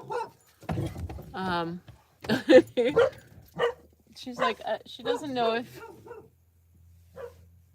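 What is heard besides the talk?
dog barking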